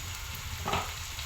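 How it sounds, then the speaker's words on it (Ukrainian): Soft, steady sizzling of cabbage frying in oil in a pan, quiet and close, with a brief louder stir or crackle midway. "Капуста смажиться"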